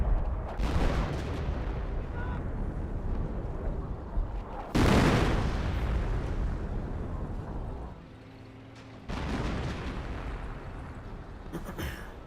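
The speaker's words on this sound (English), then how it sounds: "Artillery round in destroys that shed." An artillery shell lands and blows apart a shed in Company of Heroes, a sudden loud boom bursting out of ongoing battle noise, with further rumbling fire afterward.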